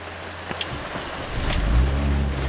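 A 2004 Mini Cooper S R53 supercharged engine starts up with the clutch held in: a few faint clicks, then the motor catches and swells into a loud, close, steady low rumble.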